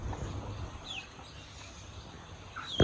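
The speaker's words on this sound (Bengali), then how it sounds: "আম্মার মুরগিগুলোকে খাবার দেওয়া হয়েছে খাইতেছে" Chickens at feeding time make soft, scattered clucks, fairly faint and distant, over low background rustle, ending with a louder sudden sound.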